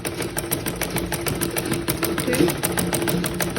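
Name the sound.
sewing machine stitching a shift dress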